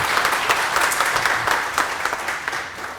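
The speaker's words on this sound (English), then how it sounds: "Can we have a round of applause for that one?" An audience at a talk gives a round of applause, with thick, continuous clapping that holds steady and close for the whole stretch, with no voices over it.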